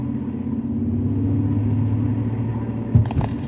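Highway traffic on Route 93 North heard from inside a moving vehicle, a steady low engine and road rumble with a brief bump or thud near the end.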